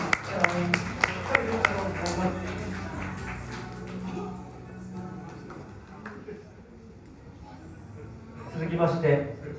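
An audience claps and applauds at the close of an arm-wrestling tournament final, with sharp claps at the start fading under a presenter's announcement, then a crowd murmur rising again near the end.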